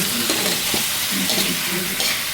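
Vegetables for pakbet, including carrots, sauté in a hot pan with a steady, loud sizzle, punctuated by occasional scraping stirs of the utensil against the pan.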